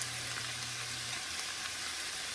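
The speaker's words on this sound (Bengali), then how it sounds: "তো এখন আমি একটু করলা ভাজি করে নিচ্ছি" Bitter gourd sizzles steadily in hot oil in a pan, a close, continuous crackling fry with a faint low hum fading early.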